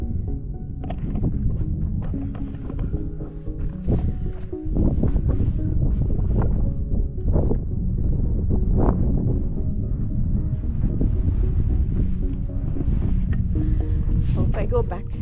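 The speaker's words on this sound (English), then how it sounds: "the wind is not helping, because it really truly feels like you can get blown over" Strong wind buffets a microphone at a cliff edge drop-off near Page, Arizona, a loud, continuous low roar with gusty bursts throughout, and no clear speech on top.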